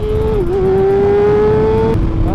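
A loud Kawasaki ZX6R motorcycle engine holds a steady high whine under rumbling noise, the pitch dipping briefly and then climbing again, close and continuous.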